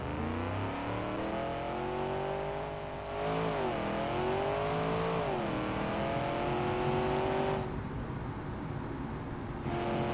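A car engine in the driving game BeamNG.Drive holds a steady droning hum, then revs up and down in smooth swells before easing off, with the pitch shifting as the car speeds and slows.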